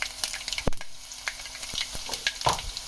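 Bottle gourd pakoda curry being stirred and fried in a pan, with soft scraping strokes and a steady light sizzle, a sharper clatter of the spoon near the start, close and alone.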